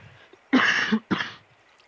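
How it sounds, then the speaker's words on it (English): Two rough, throaty coughs in quick succession, close and fairly loud, with quiet background before and after. "Excuse me for my cough."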